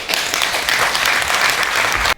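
An audience at a memorial ceremony for Dr. Lee Young-chun breaks into loud, dense applause, many hands clapping together in a continuous close roar for the full stretch with no pauses or talk.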